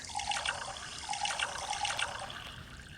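Water runs steadily from a kitchen tap into a glass, a continuous splashing stream at close range, with no voices.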